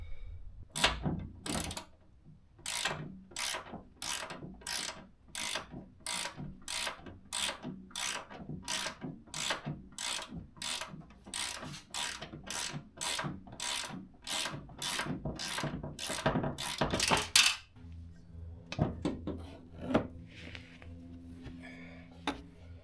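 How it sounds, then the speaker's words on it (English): A ratchet wrench loosens the upper suspension strut bolts on a 2023 Subaru WRX (VB) during a coilover install. It gives a long run of rapid, evenly spaced clicks, loud and close, then stops abruptly, with no talking. "We'll now go up top, finish undoing the bolts, and just drop the spring out."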